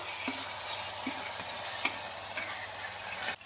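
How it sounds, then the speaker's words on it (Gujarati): Green chori beans and potatoes frying in plain oil in a pan, with a steady sizzle and a few light stirring ticks from a spoon; close and continuous, no speech. "થોડીક વાર આમને તેલમાં આવી રીતે સાતરવાના છે"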